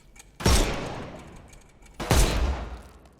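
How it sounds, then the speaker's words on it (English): Two loud gunshot blasts about a second and a half apart in the Sherlock Holmes Chapter One video game, each a sharp crack with a rumbling decay. "Shoot off their armor. Okay, and this guy, I guess we shoot that off."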